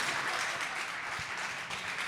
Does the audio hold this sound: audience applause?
yes